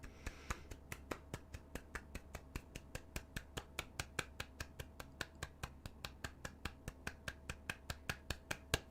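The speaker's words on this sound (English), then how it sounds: "I promise I'm clapping." Hands clap steadily and evenly, a long run of sharp, close claps at a regular rhythm with faint background hum and no talking.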